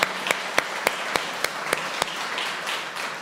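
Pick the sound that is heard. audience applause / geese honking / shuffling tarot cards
audience applause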